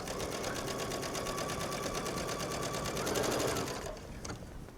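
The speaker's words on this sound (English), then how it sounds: "stitch, and you're going to do this all the way around the sleeve." A sewing machine stitches a chiffon sleeve in a steady, continuous run for several seconds, then slows and stops near the end. It sounds close and fairly loud, with no talking over it.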